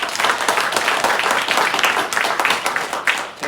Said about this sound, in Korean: 하나님 영광의 박수 돌리겠습니다.